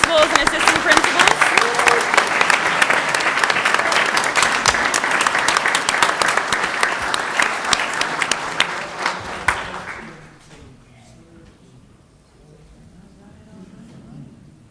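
Audience at a school board business meeting applauding new principals and assistant principals, loud sustained clapping for about ten seconds that then drops away abruptly to a quiet room.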